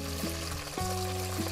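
Pindang fish frying in hot oil in a pan, a dense steady sizzle with a low hum underneath and a couple of brief bumps, close and moderately loud with no talking.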